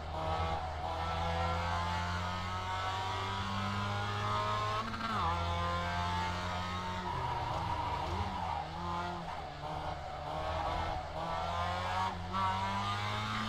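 Mazda MX5 race car engine in the iRacing simulator, a steady droning whine that holds pitch, dips with gear shifts and climbs again, with faint tyre scrub throughout.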